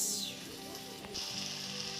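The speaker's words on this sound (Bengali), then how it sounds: "তো এটি একটু ভাজা ভাজা হবে তারপরে আমি ডালটা দেবো" Onions frying in a pan for lentils, a steady close sizzle with a sharp hiss that briefly swells, then settles into continuous crackling.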